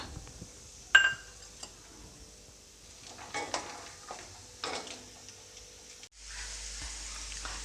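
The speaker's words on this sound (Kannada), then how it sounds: "ಇವಾಗ ಎಣ್ಣೆ ಚೆನ್ನಾಗಿ ಕಾದಿದೆ ಇವಾಗ ನಾನು ಅದಕ್ಕೆ ಒಂದು ಸ್ವಲ್ಪ ಶೇಂಗಾ ಬೀಜನ ಹಾಕ್ಕೊಳ್ತಾ ಇದ್ದೀನಿ" Peanuts in hot oil, cooked for chitranna, give a faint steady sizzle broken by scattered clinks and scrapes of stirring against the pan, with one sharp metallic tap near the start and no talk.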